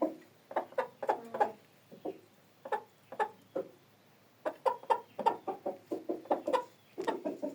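A hen clucks repeatedly around a farmyard, close by, in irregular bursts of short clucks with brief pauses, with no talking.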